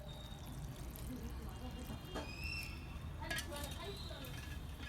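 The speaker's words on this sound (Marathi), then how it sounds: "त्याच्यामध्ये पाणी टाकून घ्यायचं थोडं" Water pours steadily into chopped spring onions in a pan for a few seconds, a soft gushing trickle over a low background hum, with faint clinks of utensils.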